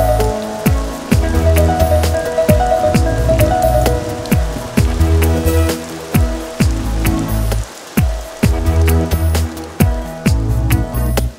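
Heavy rain pours down steadily in a dense, continuous patter, loud and close, with rhythmic splashing bursts running throughout.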